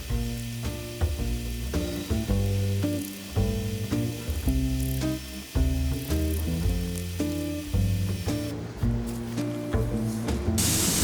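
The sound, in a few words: spray painting dye onto leather wallet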